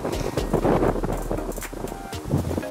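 Strong wind buffets the microphone at a lakeside fishing spot, a steady low roar with gusting rushes and rustling throughout, close and fairly loud, with no talking.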